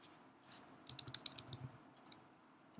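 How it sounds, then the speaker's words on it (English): Quick, light clicking of keys on a computer keyboard while text is typed into a field, a brief burst of close keystrokes in a quiet room. "whatever I am typing in the text field"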